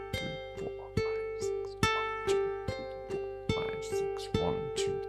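Fingerstyle ukulele practice piece, bars 9 to 12, played as clear plucked single notes in an even, steady rhythm, each note ringing briefly over a sustained low tone, quiet and close with no talking.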